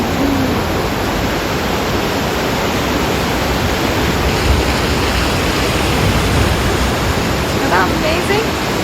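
The Sindh river rushes near Sonamarg in Kashmir, a loud, steady roar of fast-flowing water filling the whole stretch, with faint hints of a voice beneath the torrent.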